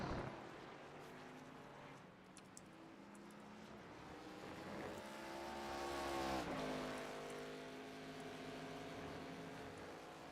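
Race cars in an SRX event at Motegi GP braking hard into a corner, engines droning and downshifting, a loud multi-car engine wash that swells midway and then eases, with no talk.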